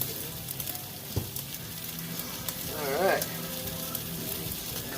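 Steaks sizzle on a hot Blackstone griddle with a steady close crackle, a brief metallic clink and a stirring scrape midway.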